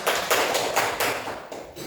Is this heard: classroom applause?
yes